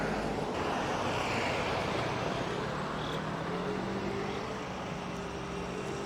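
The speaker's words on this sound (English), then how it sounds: "So we're kind of in the downtown area right now of Kotor. You can hear it with the traffic." Street traffic rumbles in downtown Kotor, Montenegro: a continuous broad wash of passing vehicles and engine drone with faint wind noise, steady and moderately loud, no speech.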